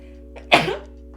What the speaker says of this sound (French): je vais éternuer, je crois